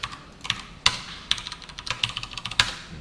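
Someone types a post on a computer keyboard, a close run of irregular clacking keystrokes with a few louder key hits, heard alone without speech.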